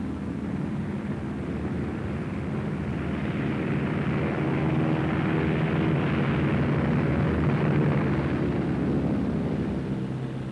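A Martin B-26 airplane shudders just before a stall, a steady, dense engine roar and airframe rumble filling the whole stretch without pause.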